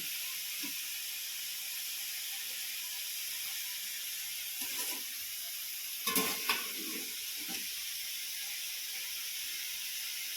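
Tomatoes sautéing in a pan for a cabbage-leaf curry: a soft, constant hiss of frying, with a few quiet clatters and stirring scrapes midway and no one speaking.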